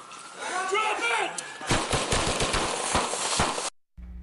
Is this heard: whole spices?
no